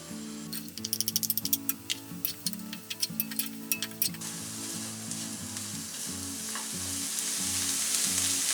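Garlic and shallots frying in a pan for spaghetti Bolognese, a steady loud sizzle that swells over the clip, with clicks and taps of stirring utensils in the first half.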